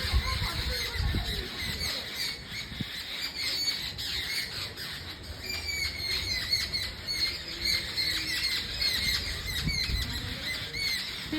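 Harsh squawks and quick chirps from many birds, including crows, fill the air without pause from a crowded jackfruit tree, some wing flutters among the calls, close and steady.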